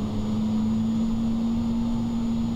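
Steady airliner engine drone from an easyJet FlyByWire A320 in a flight simulator, a constant low hum with a firm tonal line, loud and unbroken throughout with no talking.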